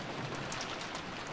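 Steady rain hissing down outside a mansion in the visual novel Umineko: When They Cry, a continuous even wash of drops with faint brighter patters, no voices.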